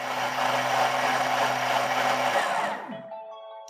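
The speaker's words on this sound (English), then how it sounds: "So I'm going to blend this soup now, and we're going to gradually increase it from speed 4 to 9" A Thermomix purees spicy cauliflower soup, a loud steady whirring roar with a low motor hum that climbs through the speeds, then cuts out abruptly and winds down to quiet near the end.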